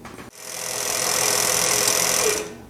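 A Juki LU 1508 walking foot sewing machine winds thread onto a U-style bobbin, a loud, steady high whir that spins up, holds for about two seconds, then winds down, with no talking.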